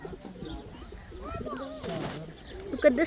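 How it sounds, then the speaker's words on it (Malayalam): Pigeons coo softly in a few low, rolling calls nearby, with faint background voices and other bird sounds around them. "ഇവിടെ കിളികളുണ്ട്, ബേർഡ്സ്, പ്രാവ്."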